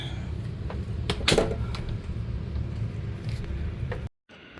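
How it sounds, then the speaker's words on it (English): A bedroom door being shut during a plywood floor painting makeover: a single close thud and knock early on over faint fan hum, followed by quiet room noise that cuts off abruptly. "I'm going to shut the door"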